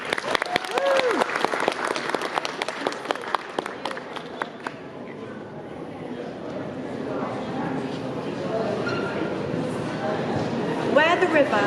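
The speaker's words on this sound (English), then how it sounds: "a round of applause for Zara Auckbarallee." An audience at a poetry evening at the National Gallery claps for a poet, loud, close applause at first that quickly thins and fades, with a voice speaking over the quieter room afterward.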